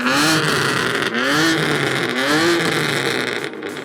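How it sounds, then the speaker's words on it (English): Several cars revving hard one after another in a rev battle, a Nissan GT-R, a BMW M3 and a BMW 335i, loud and close, with repeated rising and falling engine sweeps and no talking. "we're gonna do a little rev battle between the GTR, the M3, and my boy's 335i"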